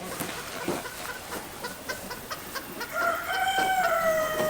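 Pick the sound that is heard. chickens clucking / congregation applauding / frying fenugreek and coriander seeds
chickens clucking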